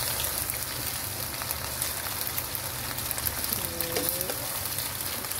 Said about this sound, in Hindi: इसको मसालों के साथ भून देना है, आँच तेज़ रखनी है